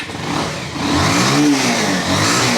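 A used motorcycle engine revs up close and loud, its throaty drone climbing in pitch, peaking, then easing back while staying strong.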